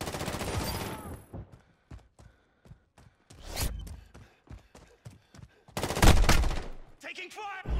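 Gunfire from the video game Call of Duty: Modern Warfare, with bursts of rapid automatic shots and scattered single cracks separated by brief pauses, loud and close, with heavy volleys near the start, middle and end.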